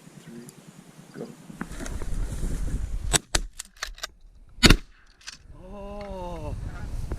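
Shotguns fire at geese and ducks during a hunt in Alberta, a quick run of sharp blasts followed by a single loud shot, outdoors with wind and honking birds, and voices nearby.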